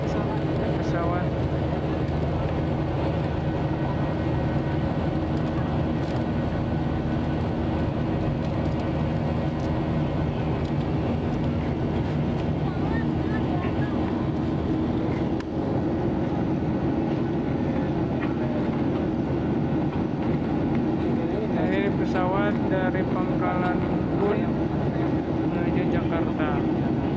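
A steady, loud airplane engine drone at a forest camp fills the whole stretch, with people talking over it.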